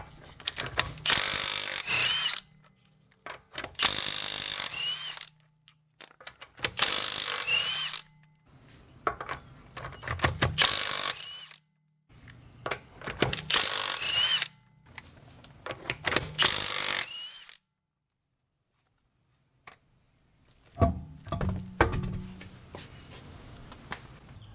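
An impact tool spins off 22 mm lug nuts from the rear wheel of a Buick Enclave or Chevy Traverse, in about six loud separate bursts with short pauses between them, followed by softer metallic clanks.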